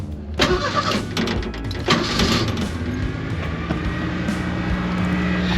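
An old Ford Mustang engine cranks and catches, with a few sharp bursts early on, then settles into a steady mid-pitched idle that runs on alone, close and fairly loud.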